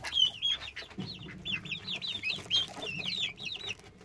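A busy flock of chickens clucks as grain is put down for them, their short overlapping calls repeating steadily throughout, with occasional higher chirps from chicks mixed in.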